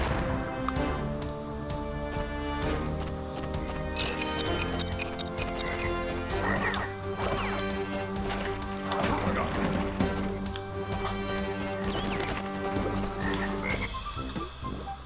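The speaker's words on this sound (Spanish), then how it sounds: "Oh, y me pilló el sapo." Toad croaking in the video game Crash Bandicoot: Warped, repeated croaks over steady game music with bursts of effects, continuous and fairly loud.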